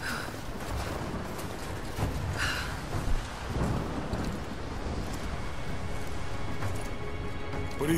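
Approaching thunderstorm in the video game Rise of the Tomb Raider: steady rain and wind wash under low rumbling thunder, with a couple of nearer cracks swelling briefly.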